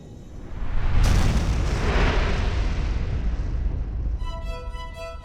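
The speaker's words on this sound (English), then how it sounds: "what we today call a Big Bang" A huge Big Bang explosion effect erupts with a sharp burst around one second, then swells into a long, loud rumbling roar that fades as bright shimmering tones rise at the end.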